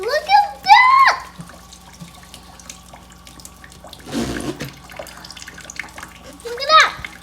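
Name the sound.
water running from a tap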